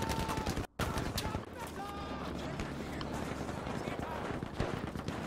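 Gunfire in the Battlefield V video game, rapid bursts and scattered shots layered over a busy battle din while someone talks over it.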